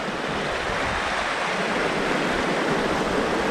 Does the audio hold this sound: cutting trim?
no